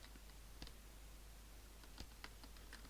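Quick, quiet keystrokes on a computer keyboard enter a console command in a game, several soft clicks scattered irregularly over low background hiss, no voice.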